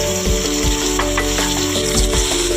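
Peas and carrots fry in hot oil for a restaurant-style vegetable fried rice, a continuous sizzle with repeated metallic clicks and scrapes of a spatula against the pan, close and fairly loud with no talk.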